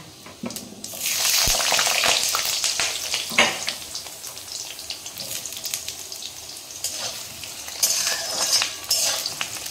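Panch phoron spices and a dried chili frying in hot oil, a loud crackling sizzle that bursts up and then settles into steady spitting, with occasional clinks of a utensil on the pan and no talking.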